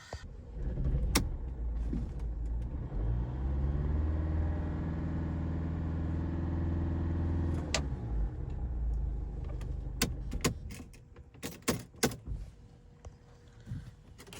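A Mercedes A-Class diesel engine cranks and catches, then runs with a steady low rumble for several seconds before cutting off, followed by scattered clicks and knocks nearby, after injector replacement.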